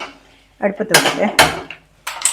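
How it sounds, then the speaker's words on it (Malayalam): A metal pressure cooker holding sambar vegetables for a roasted-coconut sambar is set on a kitchen stove, with loud clanks and scraping bursts separated by short pauses. "ഇതേ ഞാനിപ്പോൾ ഇവിടെ അടുപ്പത്ത് വെക്കട്ടെ"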